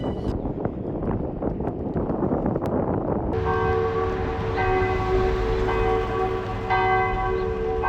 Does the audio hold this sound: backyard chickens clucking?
no